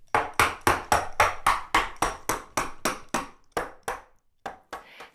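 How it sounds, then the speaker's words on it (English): A wrench strikes a wooden table top again and again, about a dozen sharp, evenly paced knocks close by, then a few scattered, softer hits after a brief pause. "I'm going to use a wrench, and randomly add some dents and dings to the top, the edges, and some places on the legs"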